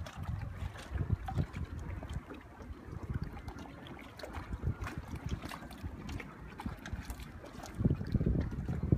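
A small boat moves across open water, with irregular sloshing and lapping against the hull mixed with gusty wind buffeting the microphone, all fairly close and steady throughout.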